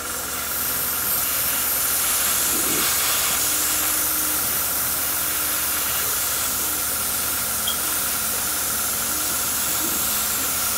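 An airbrush spraying paint coats onto a scale model gives a steady, close hiss that runs unbroken throughout, with a faint low hum beneath and no talk.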